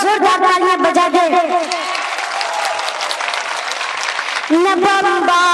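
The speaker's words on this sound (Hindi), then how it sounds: "मैं चाहता हूँ कि आगे से लेकर पीछे तक पूरा मजमा एक बार जोरदार तालियां बजा दे" Strong applause and some cheering from a large crowd at a poetry recitation gathering, rising in the middle between stretches of a man's loud, sing-song declaiming before and after.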